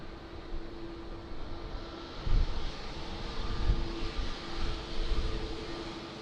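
A jet airliner takes off from Lisbon Airport, a broad, steady roar with a faint whine heard from a distance, swelling slightly in waves over several seconds with no voices.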